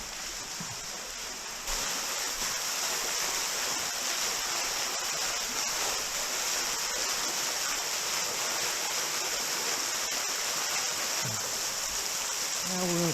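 A creek and waterfall rushing steadily below Glory Hole Falls, a dense continuous broadband roar of falling and flowing water that stays loud and close throughout, with no voices over it.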